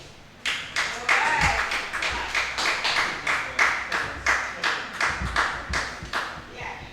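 An audience at an anti-bullying panel discussion claps in a steady, rhythmic beat, about a dozen sharp unison claps that settle into an even tempo.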